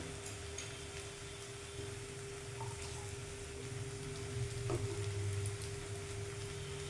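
Ghee sizzling in a vegetarian banana flower curry as it is stirred, a continuous soft frying hiss over a steady low hum, with a few faint spoon scrapes.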